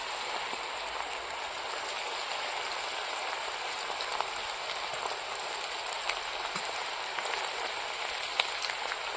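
Langcha sweets fry in hot oil with a steady, dense bubbling sizzle that holds evenly throughout, close and moderately loud, with scattered small pops and no voices.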